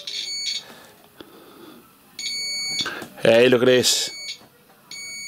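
Digital multimeter in continuity mode beeping while probing an SPX100 antenna, several short high electronic tones in bursts, with a brief spoken remark in between.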